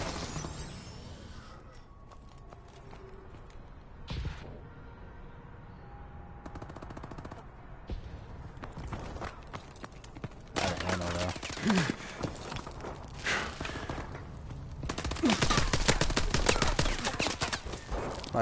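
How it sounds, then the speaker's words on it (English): Pistol and other weapon fire in a Call of Duty multiplayer match, scattered bursts of rapid shots mixed with game effects and explosions, building louder toward the end. "Pistol sucks. I just unloaded a full clip on some dude."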